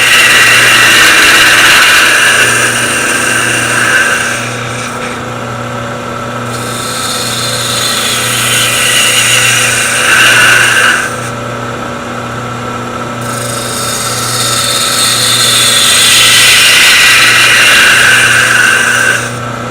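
A wood lathe spins a vase blank while a gouge rides the bevel, producing a loud, continuous motor hum under a hissing cutting sound that swells and fades in long, slow sweeps.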